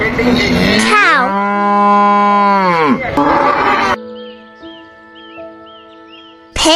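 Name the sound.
cow mooing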